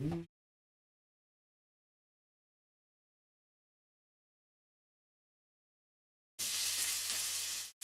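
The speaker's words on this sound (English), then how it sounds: "It's starting to sizzle." After a long silence, mushrooms and onions sizzle loudly in a hot pan for a brief moment at the end, a crackling hiss.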